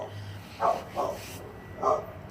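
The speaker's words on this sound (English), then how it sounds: "that dog's gonna bark" A dog barks three times at a distance, short sharp barks with gaps between them over a quiet background.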